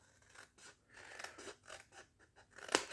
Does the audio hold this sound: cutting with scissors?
yes